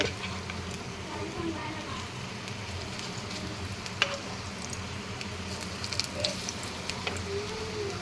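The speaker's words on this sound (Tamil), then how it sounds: "நல்லா ஆயில் ஹீட் ஆயிடுச்சு இப்படி வடை மாதிரி தட்டி போட்டுக்கலாம்" Boneless chicken patties, flattened like vadas, frying in hot oil: a constant soft sizzle and crackle with a few faint clicks, close and fairly quiet, no talking.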